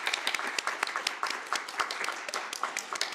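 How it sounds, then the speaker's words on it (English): Audit committee members clap together at the close of a meeting, a short burst of irregular, fairly close hand claps with no talking over it. "Shall we give a clap?"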